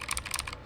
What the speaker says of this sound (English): That's like typing on butter or air, like buttered air.